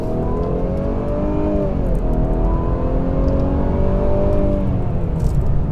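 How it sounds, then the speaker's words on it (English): A 2021 Mercedes E350 sedan accelerates to merge onto a highway, its engine whirring loudly with tones that climb and settle, heard from inside the car with no talking. "let's merge onto this little highway here"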